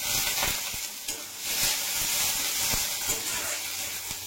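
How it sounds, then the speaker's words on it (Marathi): Garlic and coconut roasting in a hot pan ahead of adding peeled black ghevda beans, a steady close sizzle and hiss with occasional stirring taps and scrapes, no talking. "लसूण खोबरं चांगलं भाजले की घेवडा सोललेला धुवून स्वच्छ घेतला यात घालू आपण."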